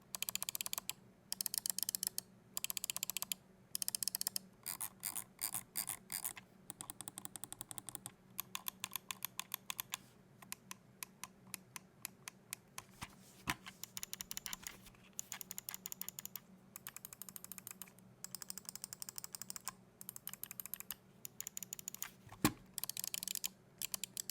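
Rapid bursts of sharp clicking from a Razer Basilisk V3 Pro 35K mouse, powered off and pressed repeatedly in fast volleys with short pauses between them, close and crisp with no talking.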